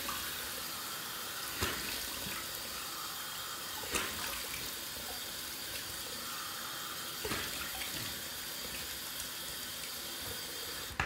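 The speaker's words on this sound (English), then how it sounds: "I'm gonna wet my face" A bathroom tap runs steadily while someone wets their face before a wet shave, with a few soft splashes and knocks over the constant stream of water.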